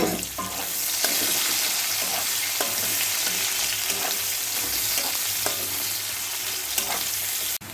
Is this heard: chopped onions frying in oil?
yes